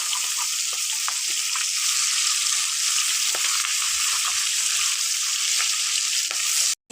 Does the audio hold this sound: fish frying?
yes